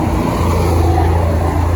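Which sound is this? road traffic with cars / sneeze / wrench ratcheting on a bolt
road traffic with cars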